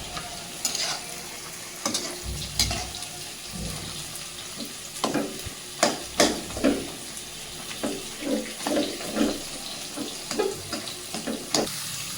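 Onions frying in a pan with salt, with a soft sizzle and a string of irregular stirring scrapes and knocks that grow busier, close but fairly quiet.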